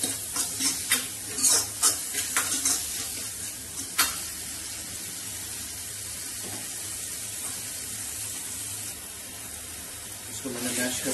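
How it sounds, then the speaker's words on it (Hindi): Tomato, garlic, ginger, green chili and onion are mashed and stirred in a hot pan for a village-style mustard greens dish, with close scraping and soft sizzling throughout and a voice speaking at times. "इसको मैंने मैश कर लिया है टमाटर लहसुन अदरक हरी मिर्ची"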